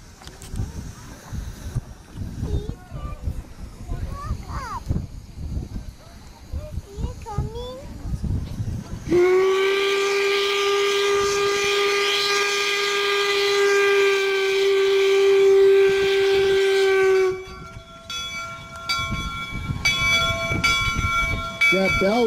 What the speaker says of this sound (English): he announces that by blowing the whistle, one short whistle.